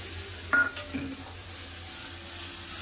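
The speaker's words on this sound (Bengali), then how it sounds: "সব একসাথে ভালো করে কষে নেবো তেল ছাড়া পর্যন্ত।" Turmeric powder and a ground mustard, chilli and cumin paste are stirred in hot oil for a fish curry with tomato; a soft steady sizzle runs throughout, with a few sharp spoon-on-pan scrapes and clinks near the start.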